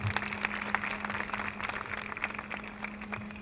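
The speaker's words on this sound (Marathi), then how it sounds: "जोरदार टाळ्या SVL साठी." Applause from the audience for SVL at the SVL Integration 2011 event, scattered clapping of moderate loudness heard over a steady low hum.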